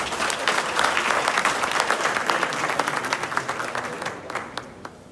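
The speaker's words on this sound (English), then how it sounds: "I think we should all do a big round of applause for ourselves." A crowd at a homecoming speech event in Ghana breaks into a sustained round of applause, dense clapping that fills the room for several seconds, then thins out toward the end.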